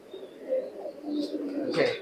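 Pigeon cooing in a loft with a red-eyed pair of imported high-flying pigeons, soft low coos recurring across a couple of seconds, close and moderately quiet, with faint background voices.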